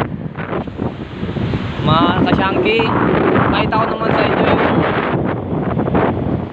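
Wind rushes across the microphone while strong waves surge in the background on the shore of Batangas Bay, San Juan, with a person talking over the noise.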